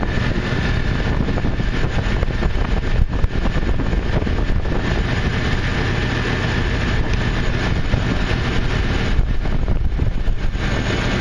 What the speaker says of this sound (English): Now with the engine running, take the cap off.